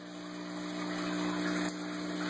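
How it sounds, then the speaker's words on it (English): A bell siphon drains water through a small 1 inch to half inch pipe, giving a steady gushing, pump-like rush with a faint hum that runs throughout without pause, heard fairly close. "And I'm getting really great drain out of it too, because it's just a 1 inch to a half inch."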